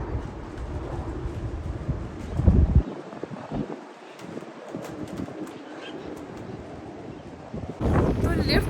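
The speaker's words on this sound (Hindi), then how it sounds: "बहुत हवा चल रही है।" Strong, cold wind outdoors buffeting the microphone, producing uneven low rumbles and gusts that surge loudly at the start and again at the end, with quieter stretches in between.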